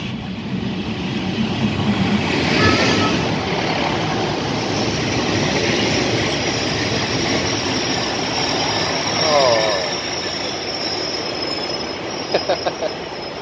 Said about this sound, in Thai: รถไฟมาครับไม่มีคนเลยเอาจอดแล้ว